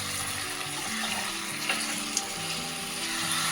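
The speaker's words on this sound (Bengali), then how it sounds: "এর মধ্যে দিচ্ছি একটু জল।" Water goes into a pan of potatoes, cauliflower and spices as they cook, a steady close hiss and sizzle with a couple of small clinks and no talking.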